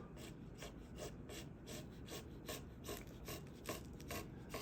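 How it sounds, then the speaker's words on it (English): A French pattern maker's chisel pares the wooden braces of a guitar top in steady, quiet rasping strokes, several per second, close by with no voices. "I really like to feel the braces being cut. It gives me feedback as to how the chisel's working."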